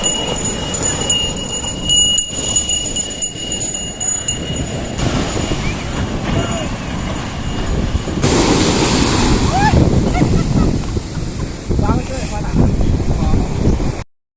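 Surf rolling in at Marina Beach in Chennai, with steady wind buffeting the microphone and a broad wash of breaking waves throughout, people talking nearby over the constant roar.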